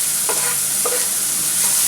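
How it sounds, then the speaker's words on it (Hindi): Chopped onion and garlic sautéing in a little oil, a constant bright sizzle with a few soft utensil stirs, close and alone without speech. "थोड़ा सा इसको सोते करेंगे।"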